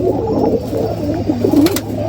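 Pigeons coo around a pigeon coop, soft throaty rolling coos repeating close by over a steady low background hum.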